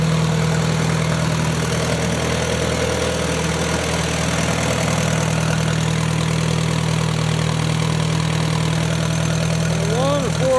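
A 1946 Allis Chalmers WC tractor engine runs steadily at idle throughout, a continuous low, even drone close by with no talking over it.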